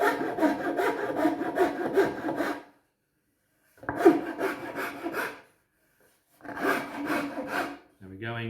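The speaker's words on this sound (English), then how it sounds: "we'll take out any of the file marks with the sandpaper" Sandpaper rubs along a wooden ukulele neck to remove file marks, three bursts of rapid back-and-forth rasping strokes separated by short silences, close and fairly quiet.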